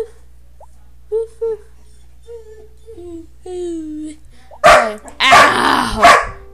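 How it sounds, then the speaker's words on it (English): A high-pitched dog gives a few thin whines, then breaks into several close, sharp barks near the end. "He's so high-pitched. He just goes, woof."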